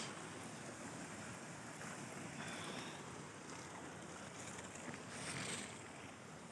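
Steady broadband rush of cold water flowing at a waterfall, continuous and loud with no clear breaks, heard close with some wind noise mixed in.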